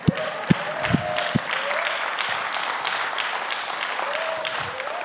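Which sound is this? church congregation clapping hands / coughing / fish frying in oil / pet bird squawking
church congregation clapping hands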